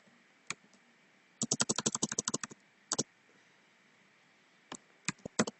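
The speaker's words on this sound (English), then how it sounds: "I have to type" Keys clatter on a computer keyboard in short bursts: a rapid run of keystrokes, a lone tap or two, then a few scattered presses, close and crisp over a quiet background.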